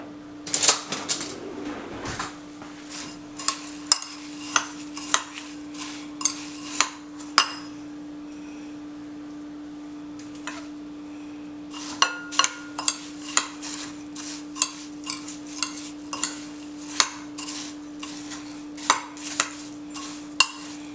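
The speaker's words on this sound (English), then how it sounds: "Just stir it up real good." A spoon scraping and clinking against a dish while pineapple casserole ingredients with crackers are stirred, a series of sharp taps at irregular intervals over a steady hum, with a quiet pause in the middle.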